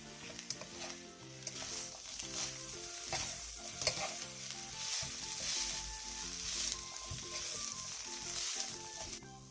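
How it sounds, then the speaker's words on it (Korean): Onion and red cheongyang chili with salt stir-fry in a pan for a namul side dish, a loud, busy crackling sizzle with steady scraping and clattering of a utensil throughout. "소금 3분의 2티스푼과 양파, 청양 홍고추를 넣고 골고루 섞일 정도로만 볶아주세요"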